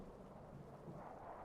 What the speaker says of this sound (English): there's a thunderstorm outside